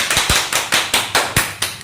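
A class of primary school pupils clapping hands together in a steady rhythmic beat, about eight sharp, evenly spaced claps, close and loud.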